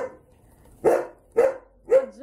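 Two-month-old German shepherd puppies give three short, high yaps spaced about half a second apart, close by and fairly quiet against a near-silent background.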